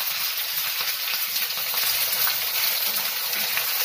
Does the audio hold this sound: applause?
no